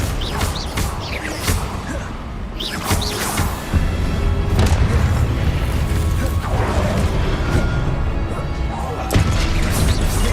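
Confringo fire-blast spell effects in the video game Hogwarts Legacy, a loud, dense run of crashing blasts and impacts bursting one after another amid combat clatter.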